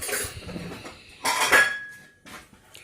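Dishes being washed in a home kitchen, with plates and cutlery clinking and clattering in irregular bursts close by, a few brighter clinks standing out, no talk.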